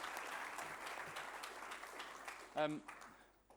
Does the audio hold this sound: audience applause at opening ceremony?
yes